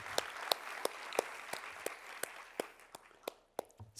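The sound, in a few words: audience applause at a nursing awards ceremony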